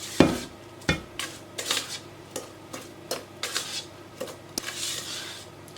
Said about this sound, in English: I'm going to use my spatula to stir those in